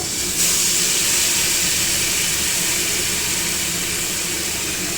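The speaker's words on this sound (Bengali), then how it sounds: "কড়াতে তেল গরম করে আমি কালো জিরে ফোড়ন দিয়েছি। কালো জিরে ফোড়ন দিয়ে এবার আমি মশলাটা ঢেলে দেব।" Coriander leaf masala paste poured into a wok of hot oil tempered with black cumin seeds, giving a loud, steady sizzle and hiss that holds evenly throughout.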